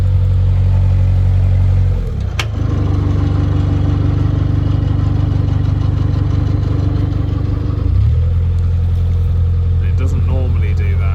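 Boat engine ticking over at idle with a new, abnormal running sound: a steady low throbbing drone with clattery overtones, and a brief dip and knock around the second and eighth seconds.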